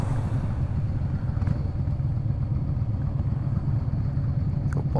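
A motorcycle engine hums steadily at close range, a continuous low rumble with faint wind noise and no voices.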